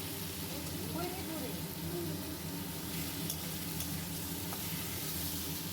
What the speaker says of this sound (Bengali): রসুন আর আদা বাটা দিয়ে তারপরে সবজিগুলো দিয়ে একটু নাড়াচাড়া করছি